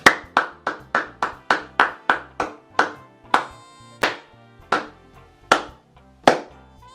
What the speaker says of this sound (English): Let's make an applause for his effort.